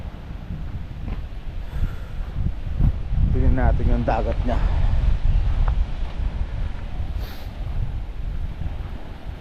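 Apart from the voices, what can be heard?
strong wind on Borawan Island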